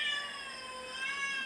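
Pet cat meowing, one drawn-out plaintive meow held close and fairly clear for about a second and a half.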